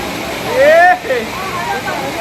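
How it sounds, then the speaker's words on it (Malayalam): Heavy rain pours down steadily with running water, a dense, even rushing hiss throughout, and a voice briefly rises over it near the start. "കുറേ സമയം മഴ പെയ്യാൻ തുടങ്ങിയിട്ട് നിന്ന് പെയ്യുവാണ് നല്ല ശക്തിയിലാണ് പെയ്തുകൊണ്ടിരിക്കുന്നത്"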